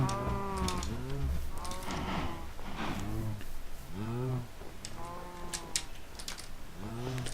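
Several Minecraft cows moo in repeated drawn-out calls, some overlapping and fairly close, alongside faint clicky keyboard-like taps in a farm area where wheat is grown for breeding them.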